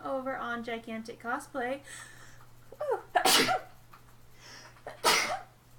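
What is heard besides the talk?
sneeze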